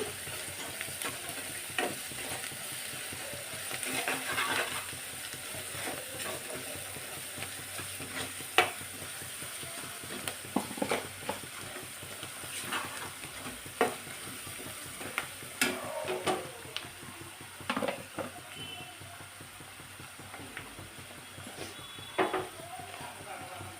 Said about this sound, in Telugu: కొంచెం అల్లం పేస్ట్ వేసుకోండి